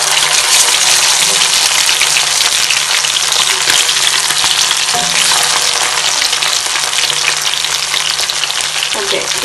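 Kerala-style karimeen pearl spot fish fries in a pan with a loud, dense, continuous sizzle close by, a faint clink partway through.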